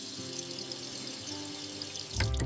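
Water runs steadily from a tap into a sink in a continuous close hiss, then briefly changes to a louder splash and burst near the end.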